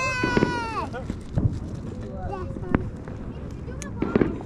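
Fireworks at a fireworks show go off as several sharp pops and bangs, mixed with children's voices and excited shouting nearby.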